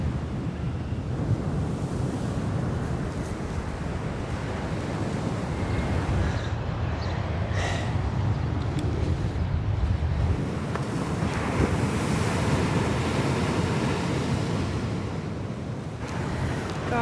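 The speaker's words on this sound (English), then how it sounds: "Gosh, I love these ocean vibes." Ocean surf rolls in steadily with strong wind buffeting the microphone, a constant broad roar heard from inside a parked van on a Florida coast, with no talking.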